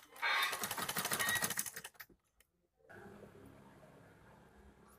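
A sewing machine stitches an invisible zip in a fast, dense run of needle clatter for about two seconds, then stops, leaving quieter room noise afterward.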